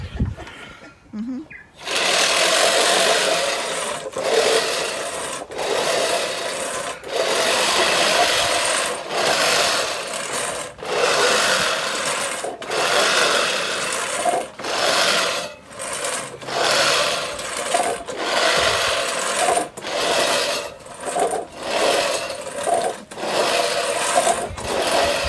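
A Flymo electric lawn mower mows a garden lawn with a steady, close motor whir broken by repeated brief dips as it moves back and forth. A voice talks over the mower at times.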